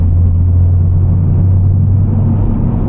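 Honda Civic Type R FL5 engine and exhaust idling at low RPM, a steady, loud, deep drone with a strong low hum and a constant rumble close by, with no talk over it.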